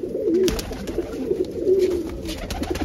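Pigeons in a loft, including Kaldum pigeons with newly hatched chicks, coo in soft repeated low rolling calls, fairly close and continuous, with no voices.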